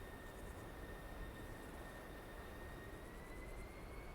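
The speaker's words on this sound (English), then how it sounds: "Where the engine's starting to spool up a little bit." An F-16 Viper's jet engine spools up at an airshow practice, a steady whine with a rising high-pitched tone over a broad rumble, constant and fairly distant, no voices.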